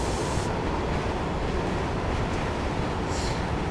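A simulated passenger train in Train Simulator 2019 on the London Euston to Tring line runs with a steady, dense broadband rumble and rolling hiss, constant throughout with no voices.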